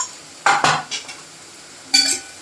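Spoon scraping and clinking in a cooking pan while chili powder and turmeric are stirred into onions, a few close separate metallic stirring scrapes with quiet gaps between.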